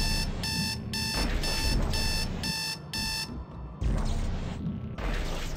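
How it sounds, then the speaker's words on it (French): Repeating phone alarm tone in short regular bursts, about six pulses, loud and clear over a continuous background of noisy game audio from a survival-mode sci-fi horror shooter. "j'ai eu une alarme sur mon téléphone"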